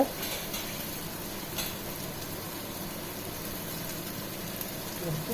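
Garlic, ginger and curry leaves sizzle steadily in hot oil for tuna pickle, a continuous close crackle with occasional scraping stirs and no talk.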